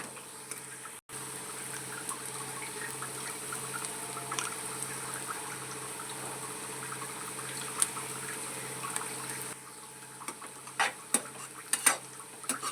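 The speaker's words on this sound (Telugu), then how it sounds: "ఆనియన్స్ బాగా ఫ్రై అవుతున్నాయండి ఈలోపు గోంగూర కూడా మగ్గుతుంది" Onions frying in a pan alongside gongura leaves for a prawn curry, a steady low sizzle and bubbling with occasional light stirring scrapes near the end.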